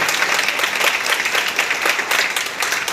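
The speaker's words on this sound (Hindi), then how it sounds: "तो आपके लिए जोरदार तालियां" Loud, sustained applause from an audience at a motivational networking seminar, dense steady clapping filling the whole stretch without a break.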